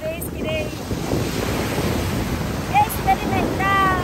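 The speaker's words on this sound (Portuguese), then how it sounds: "Olha que mar tranquilo, né, dona Jana?" Sea waves and wind on a calm open-sea beach about 20 km from Natal, Brazil: a steady, close rush of surf and wind noise with faint high chirps scattered over it.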